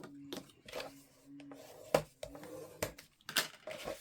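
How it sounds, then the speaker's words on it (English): Mitered paper flaps on an album page being burnished, faint soft rubbing strokes with light taps and scuffs, close and quiet, with a low voice murmuring intermittently. "burnish that out nice and neatly on both of these flaps"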